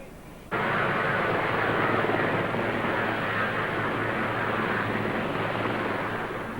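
Helicopter arriving at a jackup drilling rig, a loud broadband engine and rotor roar that starts abruptly and holds steady throughout, close and dominant with no talk.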